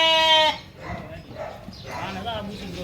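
A small sheep in a village farmyard gives one loud, wavering bleat at the start, then rustling farmyard noise and voices follow.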